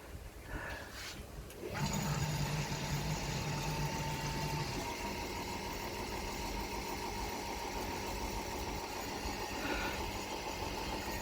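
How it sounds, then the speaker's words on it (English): An electric pump on a home beer-brewing rig, making a Czech Pilsner, starts up after a quiet moment and keeps running with a steady, moderately loud whirring hum and some gurgling liquid churn. "so let's turn the pump on"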